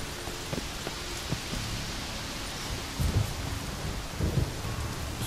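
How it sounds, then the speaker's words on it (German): Thunderstorm in The Witcher 3 video game: steady broadband rain hiss throughout, with low rumbling thunder rolls swelling near the middle and again toward the end. "Das Gewitter, ey."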